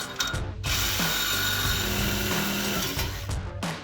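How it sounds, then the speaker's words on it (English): A reciprocating saw cuts through the exhaust pipe of a 2005-2010 Mustang GT, a loud, close, continuous rasping buzz with a short break near the start before the cutting resumes, then easing off at the end. "you take your sawzall after you've made your measurement and you cut through the pipe as straight as you possibly can"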